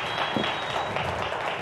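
Studio audience applause at a television show, a dense, steady wash of clapping that holds evenly throughout.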